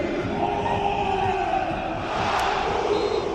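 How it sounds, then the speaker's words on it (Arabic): A stadium crowd at a Bundesliga football match chants a player's name, a broad roaring wash of many voices that holds steady throughout without individual words standing out. "شوف الإعادة واسمع صوت الجمهور وهو يردد مرموش."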